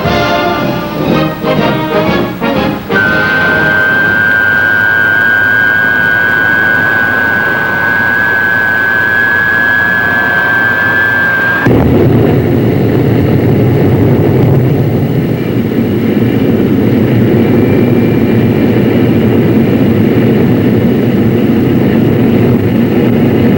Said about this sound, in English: the jackrabbit getaway and speed of the jet-powered Banshee